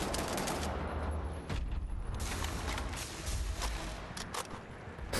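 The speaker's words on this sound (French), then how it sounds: "Ah mais on peut tirer avec les deux armes" Dense, continuous gunfire from two weapons firing at once in a video game, a rapid crackling fusillade that runs without pause through the whole stretch with no speech over it.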